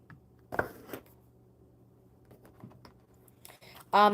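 Oracle cards being shuffled by hand, a soft papery riffle and a few light clicks, faint and close, with no one talking.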